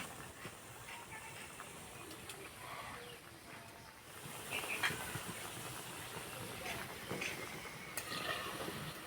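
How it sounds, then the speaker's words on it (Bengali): Steady sizzling and crackling of finger gaja sweets frying in oil over low heat, a dense hiss that grows a little louder halfway through, with sharp pops here and there. "আস্তে আস্তে জাল দিয়ে গজাগুলো ভেজে নেব"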